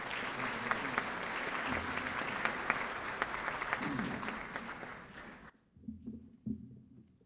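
Audience applause welcoming a doctor to the stage at a lecture on teacher training, a steady mass of clapping for about five seconds, then sudden quiet with faint murmuring.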